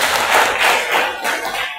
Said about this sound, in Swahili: Tujipigeni makofi.